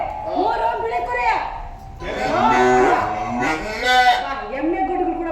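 Buffalo calves low in a rural livestock setting among sheep, giving several drawn-out, wavering calls up close, one after another, with a voice-like tone.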